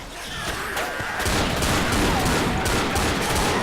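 Rapid gunfire bursts from Left 4 Dead run almost continuously, loud and dense, with sharp repeated cracks over a busy game soundscape.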